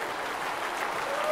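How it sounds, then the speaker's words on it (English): A standing audience at a men's church conference claps steadily in a dense, continuous wave of applause, fairly loud and without audible speech. "let's everybody stand up and just clap and give some celebration to God"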